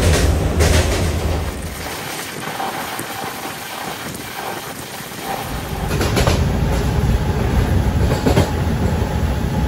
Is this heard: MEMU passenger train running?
yes